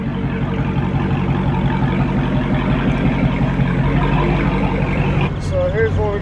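A Dodge Hellcat engine revs loudly and close by, a dense rumbling roar that holds steady, with a voice cutting in near the end.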